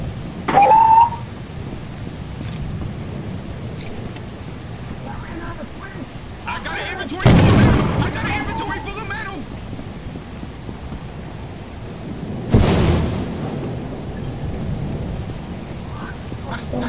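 A rainstorm in the video game Lethal Company hisses steadily while three loud thunder cracks break through at intervals, with players talking over the weather.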